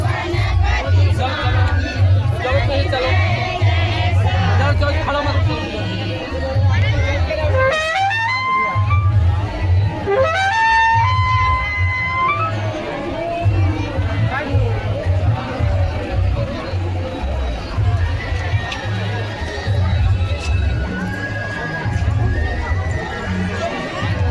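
A large crowd at a Kabir saint gathering in Bodla, Chhattisgarh, a dense, loud murmur of many voices with music and shouts rising through it, continuous throughout.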